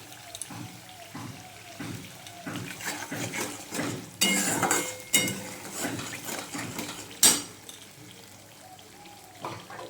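A spice paste for a pomfret fish curry is stirred in oil in a pan, with repeated scraping and clanking of a spoon against metal and a few louder knocks, close up, faint voice in the background.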